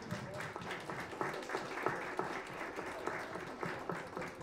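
An audience at a citizens' consultation on disability and Down syndrome claps in steady applause of moderate loudness, many hands patting irregularly for several seconds.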